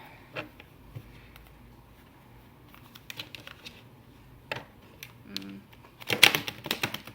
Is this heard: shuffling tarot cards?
yes